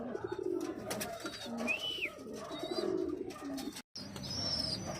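Racing pigeons back from a 104 km training flight from Moncada, Tarlac coo repeatedly outdoors, with soft chirps and a steady murmur of other birds around them.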